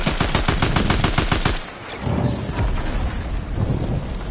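Rapid automatic gunfire from an enemy bot in a Fortnite battle royale match, a loud, dense burst of evenly spaced shots for about a second and a half, then a brief lull and scattered rumbling game noise with no talking.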